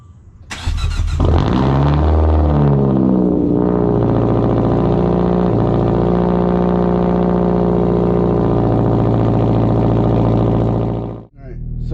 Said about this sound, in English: Do a cold start, because I know y'all love cold starts.